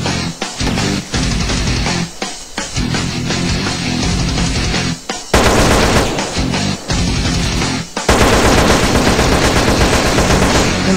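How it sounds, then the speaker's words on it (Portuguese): Gunfire from many weapons at once in GTA San Andreas, loud continuous bursts of automatic shooting layered over game sound, with brief dips between volleys. "O problema é que todo mundo atirando ao mesmo tempo,"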